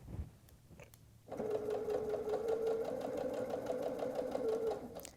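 A sewing machine runs steadily for about four seconds as it stitches through a quilted nine patch apron, loud and close, after a quiet start with faint handling noise.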